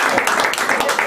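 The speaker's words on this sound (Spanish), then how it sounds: "Aplausos para Ana María y para Jorge también" A short burst of audience applause at an evening gathering of Peruvian criolla music among friends, with dense clapping filling the moment and a voice mixed in.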